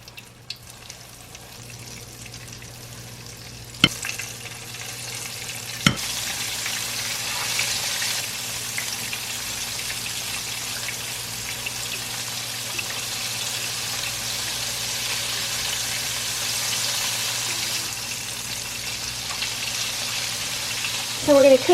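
Flour-dredged pieces fry in hot grease with a continuous soft sizzle that builds after a couple of clunks as food goes into the pan, steady and close, with occasional faint talk in the background.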